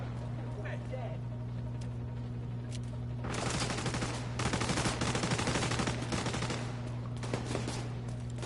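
A Gatling gun in The Division 2 fires a long rapid stream of shots that is fairly distant and sits beneath a steady engine-like hum, while someone talks throughout.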